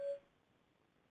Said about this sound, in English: somebody needs to mute their phone.